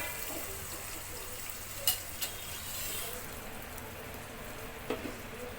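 Brinjal frying in oil in a pan, a steady close sizzle with a few light clicks and clatters, no talk.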